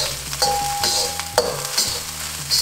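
Rice sizzles and fries in oil as it is stirred in a pan for salted egg fried rice, a steady loud crackle broken by scraping stirs, with no talking.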